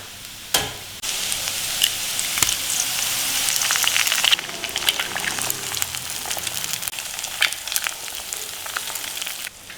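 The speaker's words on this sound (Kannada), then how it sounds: "ನಾನು ಇದಕ್ಕೆ 5 ಮೊಟ್ಟೆ ಹಾಕ್ತಾ ಇದ್ದೀನಿ." Five eggs sizzle in a hot pan for street-style egg rice, a steady dense crackle and hiss close by that swells as they hit the oil, with no voices.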